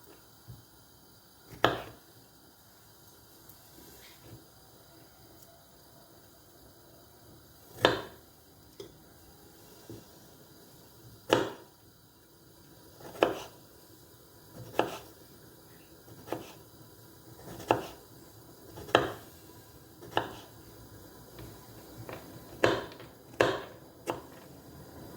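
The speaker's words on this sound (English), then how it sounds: "I've washed these strawberries. I'm just gonna chop them up and kind of mush them so that Elisa can eat them." Knife chopping washed strawberries on a board for a baby's side dish, a series of sharp, separate taps at irregular intervals that grow more frequent toward the end, close by against a quiet background.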